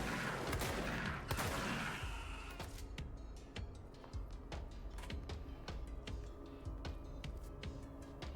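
Gunfire in the video game Control comes as a dense burst of shots, then a long run of sharp, evenly spaced cracks under a low game background, with no speech.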